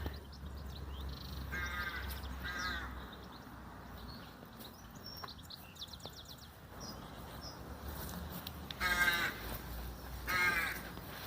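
Crows caw in hoarse bursts of several calls, some nearer and louder, over a low outdoor rumble at a graveyard, with other birds faintly in the background.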